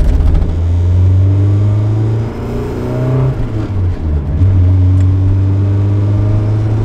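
A boosted Mazda Miata pulls hard in second gear from inside the cabin, its engine droning loud and rising in pitch, dipping briefly mid-pull as if easing off, then building again.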